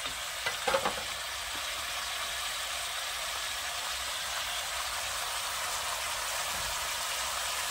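Cauliflower fries in a pan with turmeric and chili powder, giving a steady, close hiss of sizzling oil that runs throughout. A few clinks of stirring come near the start.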